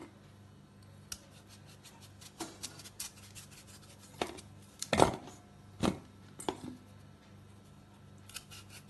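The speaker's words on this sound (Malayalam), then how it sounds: "ഇത് രണ്ടായി മുറിക്കാം." A knife cuts washed sweet potatoes in half, giving a handful of sharp isolated crunches and slices against a board, with small scraping handling sounds between them under a faint steady hum.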